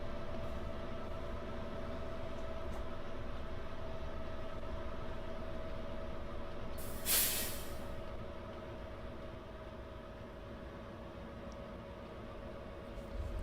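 A locomotive in Farming Simulator 22 rumbles along the rails with a steady low drone and a constant tonal hum, continuous and moderately distant, with one brief hiss partway through.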